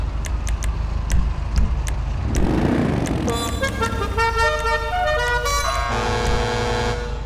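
A tuned muscle car in GTA V sounds a melodic custom horn, a run of bright tonal toots in the second half over a steady engine idle and background hum.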